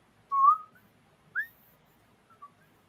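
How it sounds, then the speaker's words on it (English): A person whistles the Andy Griffith Show theme tune, a few clear, close melodic notes with short gaps of silence between phrases, no other sounds. "I should have whistled the tune of Andy Griffith"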